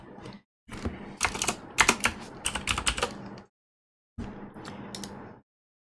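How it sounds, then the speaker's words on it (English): Rapid clattering keystrokes on a computer keyboard come in quick irregular bursts, pause for a short silence, then resume briefly, close and clear. "I should probably type that in."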